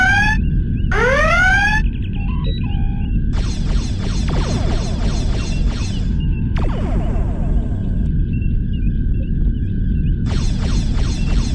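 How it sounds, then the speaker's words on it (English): A red alert alarm sounds on a starship bridge in Star Trek Bridge Commander, with rising electronic whoops and repeating pulsed tones over a steady low engine rumble. The alarm sounds loud and close and recurs several times. "Red alert, shields up."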